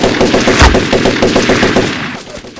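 Rapid bursts of loud gunfire, like a machine gun sound effect in a Gujarati comedy scene, mistaken for firecrackers; a close, continuous rattling volley with one heavier thump early on.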